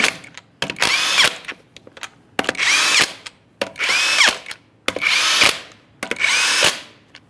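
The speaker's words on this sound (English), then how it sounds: "Start on all 6 of your 22mm lug nuts, we'll bottom them out" An impact power tool spinning 22mm lug nuts onto the wheel of a 2007-2013 Chevrolet Silverado 1500, five loud close bursts of whirring, each lasting about a second with short gaps between.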